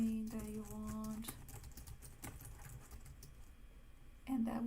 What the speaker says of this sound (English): you can type anything that you want